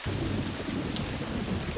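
Heavy rain pours steadily with thunder rumbling low underneath, a dense, continuous storm wash with no voices.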